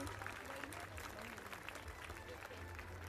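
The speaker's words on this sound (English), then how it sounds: "can we all hail with a thunderous round of applause?" Faint applause from an audience at an annual school function welcoming the chief guest, a soft continuous patter of clapping heard at a distance under the hall's murmur.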